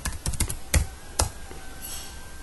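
Typing on a computer keyboard, a quick burst of several close, crisp key clicks followed by a couple of isolated taps, with no talk.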